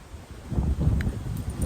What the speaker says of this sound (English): Getting windy now,